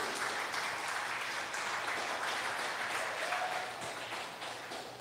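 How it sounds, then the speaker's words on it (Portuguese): A church congregation claps during a sermon, a steady wash of many hands applauding together at an even level throughout, with no voice standing out. "Quem pode aplaudir?"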